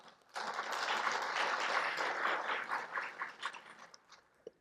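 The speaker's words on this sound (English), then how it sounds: "That was a good clap." An audience at a family and youth conference bursts into sustained applause, a dense wash of many hands clapping that holds steady for several seconds before thinning into scattered claps and fading out.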